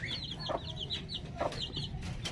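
Backyard hens with chicks cluck in short, repeated calls close by, with a soft low background hum and no talking.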